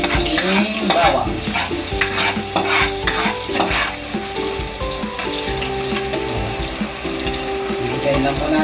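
Garlic sautéing in a pan for a sarciado fish dish, a steady close sizzle with stirring scrapes and clatter running throughout, no voices.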